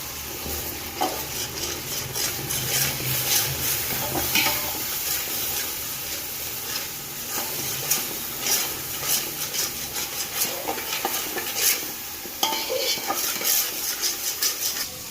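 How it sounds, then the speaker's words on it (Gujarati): Garlic paste fries in a pan with a steady sizzle while a utensil stirs and scrapes against the metal in frequent irregular clinks, close and continuous without speech. "પહેલાં લસણને પકાવી દઈએ પછી બીજા શાકભાજી પકાવશું"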